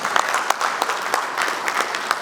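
An audience at a bank's product unveiling gives a brisk, continuous round of applause for a speaker heading to the stage, with individual claps popping through the steady wash.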